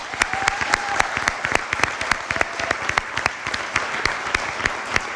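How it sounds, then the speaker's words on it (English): An audience applauds the sales staff at a spring sports awards gathering, a steady dense patter of many hands clapping with sharp individual claps standing out, moderately loud and sustained throughout. "Let's give our sales staff a big round of applause."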